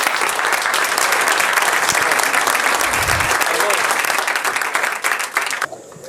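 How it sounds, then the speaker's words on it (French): A live audience at a health campaign closing evening in Cameroon bursts into sustained, loud applause that holds steady for several seconds before tapering off near the end, with voices mixed into the crowd. "je vais vous prier, s'il vous plaît, d'applaudir cette initiative"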